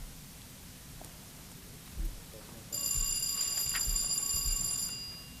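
A telephone rings electronically for about two seconds in a hearing room during a Saturday budget hearing, a clear, steady ring heard fairly near over quiet room noise, with a brief knock just before it.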